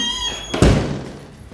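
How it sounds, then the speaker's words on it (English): A front door swings shut with a single solid thud, preceded by a brief creak and followed by a short decaying rumble. "You're gonna close the door"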